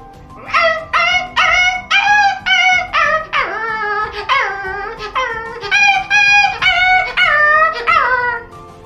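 A voice imitates a small dog sitting in the cold, producing a long series of whimpering yelps and short howls, about a dozen loud, close, strained cries in an uneven rhythm, each sliding down in pitch.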